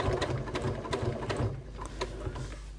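A sewing machine stitches slowly over bulky fabric while a bag is being sewn, a close, steady rhythmic whirring and clatter of the needle with no talking.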